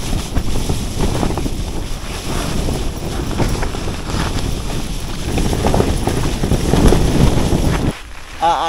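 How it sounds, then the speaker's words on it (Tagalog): Strong wind batters a tent on the summit of Mt. Gulugod Baboy, a loud, continuous roar with fabric flapping and gusts surging, then dropping briefly near the end. "Binabayo ng hangin itong ating tent."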